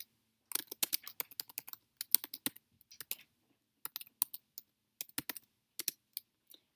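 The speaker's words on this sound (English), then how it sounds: "I'm going to type recipe modified" Keystrokes on a computer keyboard come in quick, uneven bursts with brief pauses between them. The clicks are close and light, and no one speaks.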